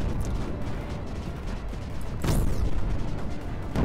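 Dense, roaring barrage of units opening fire in the Creeper World 4 strategy game, a continuous rumbling wash with a sharper swelling burst midway that stays loud to the end.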